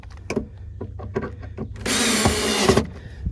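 A power tool drives bolts into a plastic LED light on a Kenworth W900 truck, with a dense, loud buzzing burst lasting about a second after scattered handling knocks and clatter.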